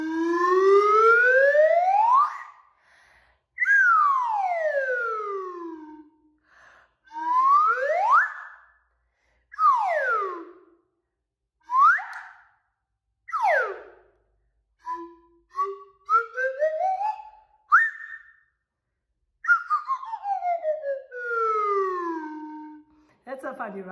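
A novelty whistle sounds a string of separate swooping tones, each gliding up and down in pitch with short pauses between. Later, a voice joins in, imitating the rising and falling swoops.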